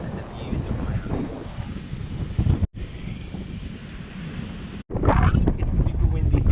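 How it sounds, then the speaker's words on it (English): Strong wind roars across the microphone during a bike ride along the beach to Bill Baggs State Park in Miami, Florida, a steady broadband rush with two brief dropouts, then gusting harder near the end, with a voice faintly underneath. "It's super windy"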